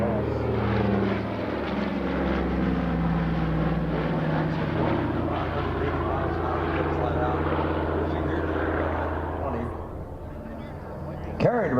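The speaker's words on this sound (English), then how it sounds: "Here's the PBY Catalina on high-speed death-defying pass." A PBY Catalina flying boat makes a high-speed pass at an air show in Geneseo, its twin propeller engines droning loud and close before the roar recedes, with an announcer talking over it.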